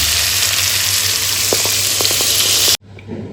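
Steady loud sizzle of ingredients frying in a hot pan with sugar, with a few scraping stirs in the middle before the sound cuts off near the end to a quieter bubbling.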